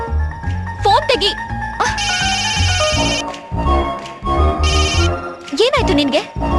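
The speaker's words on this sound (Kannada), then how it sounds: "ಶಿವುದು ಅನ್ಕೊಂಡ್ರೆ ಫೋನ್ ತೆಗಿ." An old-style telephone rings in a Kannada film scene, two loud bursts of electronic ringing between voices talking and background music.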